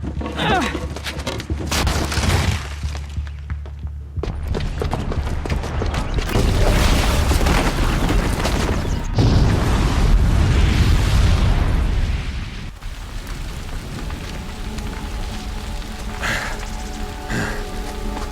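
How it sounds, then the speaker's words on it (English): A booby-trapped bomb detonates in Horizon Zero Dawn, giving a loud, sustained roar of blast and rumbling debris lasting several seconds before settling into a lower crackling tail. "the booby trap on the bomb downstairs is gonna get set off"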